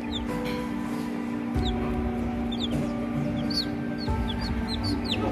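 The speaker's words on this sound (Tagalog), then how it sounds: "Mga kabayan, may 6 na pong sisiw." Newly hatched chicks in an incubator peep with repeated high, thin chirps scattered throughout over a steady machine hum.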